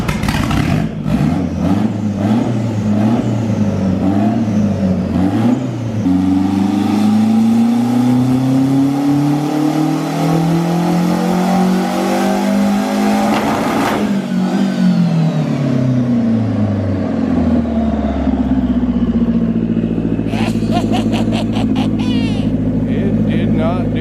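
A Corvette engine revs hard on a dyno, rising and falling through long pulls with rough, loud exhaust roar, ending in a sustained high-rpm howl; voices are heard faintly in the background.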